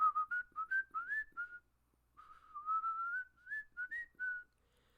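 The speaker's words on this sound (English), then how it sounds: "I will often start whistling the theme from the part 5" A person whistles a melodic tune, phrases rising and falling with a short pause midway; clear and fairly close, no talking.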